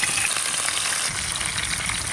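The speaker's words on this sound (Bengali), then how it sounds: "তেল গরম হয়ে গেছে, আম্মু এখন মাছ ভাজা শুরু করো।" Sarputi fish, fresh from a pond, frying in hot soybean oil in a frying pan: a loud, steady close-up sizzle and crackle throughout, with no talking.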